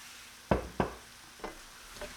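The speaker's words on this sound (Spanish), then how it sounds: "Lo vamos a mezclar todo y vamos a agregar la salsa de tomate" A pan of onion, garlic and tomato sauce is stirred, with a few soft scraping strokes and a faint sizzle underneath, close and quiet.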